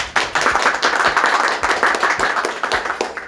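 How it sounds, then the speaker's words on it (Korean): An audience claps to welcome a guest, Gwangmyeong mayor Park Seung-won, at an urban regeneration interview. A small crowd gives sharp, closely spaced claps in a steady burst for about three seconds. "큰 박수 부탁드리겠습니다."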